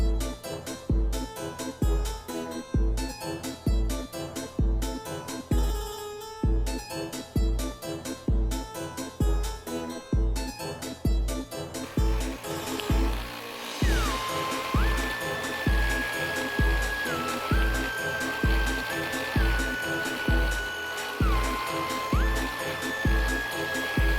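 Embroidery machine stitching the border of a Kimberbell quilt, a close, steady mechanical rhythm of rapid needle strokes with a whirring motor, joined midway by a higher tone that steps up and down as it runs.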